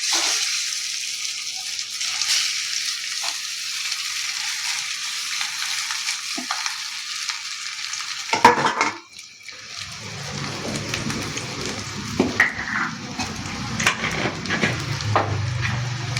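Cumin seeds, curry leaves and mashed potatoes fry in a hot pan, a steady close sizzle that breaks off near the middle, then returns lower and denser as the potatoes go in, with occasional stirring scrapes.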